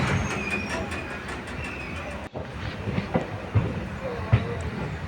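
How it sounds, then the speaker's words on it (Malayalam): A Guruvayur Express train on a curve approaching Irinjalakuda station in Kerala rumbles along its rails in a steady low roar, with a brief dropout and a few faint knocks as the wheels roll on. "ഇപ്പോൾ നമ്മുടെ ട്രെയിൻ ഇതാ ഇരിങ്ങാലക്കുട റെയിൽവേ സ്റ്റേഷൻ എത്താറായി"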